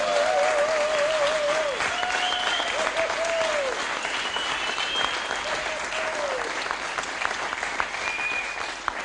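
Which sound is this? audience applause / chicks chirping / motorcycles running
audience applause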